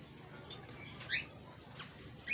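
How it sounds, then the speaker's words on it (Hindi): Pet lovebirds flap their wings after bathing, with a few short wingbeat flurries and faint high chirps over a quiet indoor background. "ये देखो सारी चिड़िया नहा नहा के बाहर बैठ रही है।"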